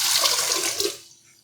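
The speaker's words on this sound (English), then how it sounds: "water's going into the mixer" A close, loud stream of water pours into the bowl of a Zacme 7.4 quart stand mixer for about a second, then cuts off.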